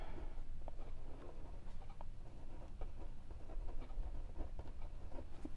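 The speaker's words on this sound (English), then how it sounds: "I'm going to get two slips of paper and I am going to write two gratitudes" Pen scratching across slips of paper at close range, faint continuous scribbling with small taps over a low room hum.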